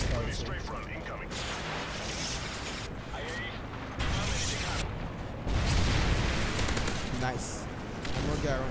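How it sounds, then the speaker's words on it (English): Airstrike strafe run gunfire in the video game Modern Warfare 3, a dense sustained barrage of rapid shots and booms rolling on for several seconds, swelling louder partway through, with a voice talking over it. "Strafe run incoming"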